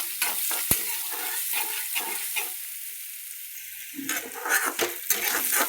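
Green chillies and spices sizzle in hot oil, with steady frying crackle broken by scraping stirs and a sharp clink of a spoon against the pan.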